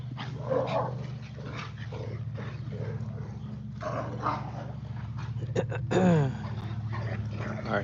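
Pet dogs outdoors give scattered barks and soft whimpers over a steady low hum, with a louder whining yelp near the end.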